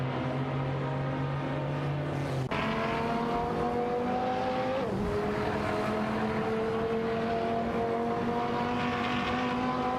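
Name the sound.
race car engines, Aston Martin DB11 V12 and Dodge Viper, racing video game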